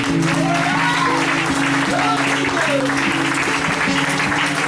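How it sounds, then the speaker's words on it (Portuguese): Strong, steady applause from a church congregation during a Pentecostal-style Portuguese-language service, filling the room with dense clapping over sustained keyboard or organ tones, with voices calling out through it. "Dê uma salva de palmas bem forte aí"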